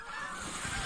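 A few geese honk over a hunting spot, a faint, hoarse, overlapping chorus of calls above a steady wash of background noise.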